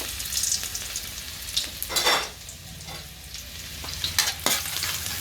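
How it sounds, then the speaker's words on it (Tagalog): Garlic sautéing in a pan, a steady frying sizzle with a few louder bursts as the spatula stirs and scrapes, close and continuous without any talk. "Bigisa ulit tayo. Bawang."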